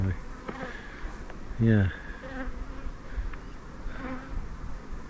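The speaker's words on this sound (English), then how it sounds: "The bees are a little bit aggressive, not massively aggressive." A bee swarm in a tree buzzes with a droning hum, one bee passing loudly close by, while a voice speaks briefly in the background.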